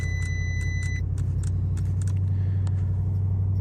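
A 2024 Bentley GTC idles after starting, with a steady low engine hum throughout, joined early on by a few short electronic chirps and light rattling clicks.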